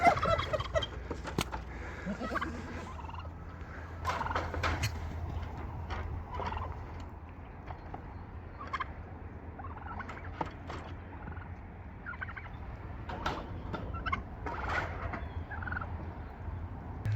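Turkeys gobble repeatedly in bursts while feeding on tomatoes and corn in a backyard flock with ducks nearby, loud close calls over a steady low background rumble.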